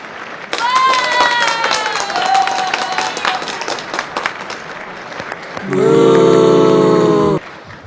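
Applause from members of Congress fills a large chamber at the State of the Union, a broad sustained crowd clapping heard alongside speech, with a loud tonal burst near the end.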